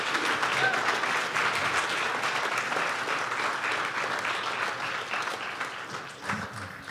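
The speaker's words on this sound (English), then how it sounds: "you guys are going to thank them as they come, so you can clap for them" A crowd claps steadily to welcome a couple on stage at an event, dense sustained applause from a sizeable audience that holds for several seconds at an even level, heard from within the room.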